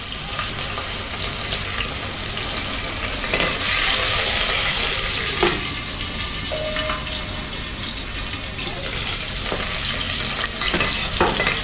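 Cumin and whole spices fry in a pan, giving a steady loud sizzle throughout with occasional stirring scrapes and clinks on top, no talking.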